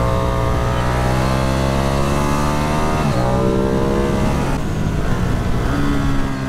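A Ducati Streetfighter V2 motorcycle's engine drones loud and close, pitch rising and falling as it accelerates and shifts through gears, with no talking over it.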